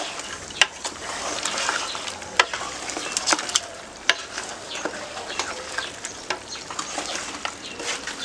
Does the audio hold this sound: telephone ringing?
no